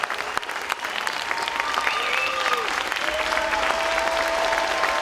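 An audience applauds graduating firefighters at their graduation ceremony, with a steady wash of clapping and some whistles and cheers rising above it.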